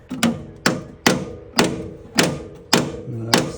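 Hammer striking a stuck engine lid bolt near the bulkhead of a Porsche under restoration, six sharp metallic blows spaced about half a second apart, close and loud.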